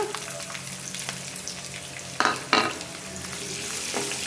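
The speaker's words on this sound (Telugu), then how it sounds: "ఉల్లిపాయని బాగా ఫ్రై చేసుకోవాలి" Sliced onion frying in oil with curry leaves in a pan for stuffed brinjal fry, a steady close sizzle broken by two sharp louder bursts of stirring partway through.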